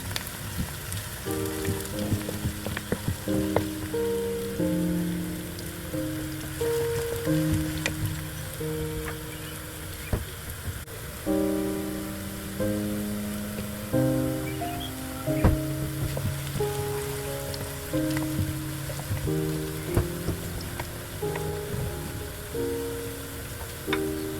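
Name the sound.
onions frying in a pan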